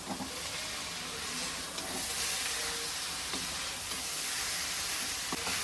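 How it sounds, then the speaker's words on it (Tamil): Shark puttu being stirred with a sprinkle of coriander leaves in a pan, a steady soft hiss and sizzle with faint scraping strokes running throughout, no talking. "கொஞ்சம் கொத்தமல்லி தலைய தூவிட்டு கொஞ்சமாக கலர்றோம்"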